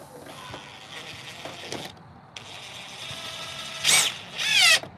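A power drill drives screws into wooden coffee table legs: a faint background hum, then two sharp whining bursts close by near the end, with no voices.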